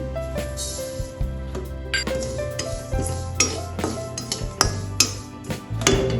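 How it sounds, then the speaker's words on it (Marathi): Garden cress seeds (halim) dry-roasting in a kadhai, heard as repeated metallic scraping and clinking of a spatula against the pan with rhythmic stirring strokes, close and fairly loud, with a steady tonal hum underneath. "आता या कढईत मी हाडीन भाजून घेते"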